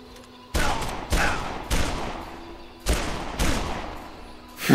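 Five sharp gunshots fired at uneven intervals in the zombie video game Dead Island, each a loud broadband crack with a short decaying tail, over a low steady background hum.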